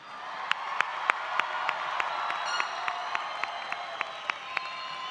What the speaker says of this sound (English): let's have one more round of applause for the class of 2024.